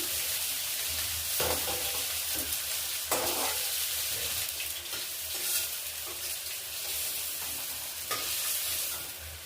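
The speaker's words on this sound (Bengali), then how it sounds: "ফুলকপিটা একটু ভালো করে ভেজে নেবো।" Cauliflower pieces coated in a little turmeric frying in hot oil, a steady dense sizzle throughout with occasional stirring scrapes and clatter, close by.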